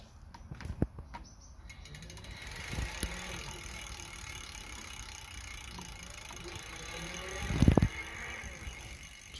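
A SameBike e-bike motor spins up when a small magnet wheel is waved past its pedal-assist sensor, giving a faint mechanical whir with light clicks and ticks in a quiet room and no speech.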